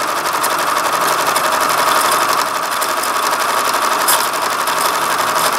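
A sewing machine stitches a seam in bonded fleece for a skirt, giving a steady, fast mechanical whirr with a faint rapid rattle that runs unbroken the whole time, close and fairly loud.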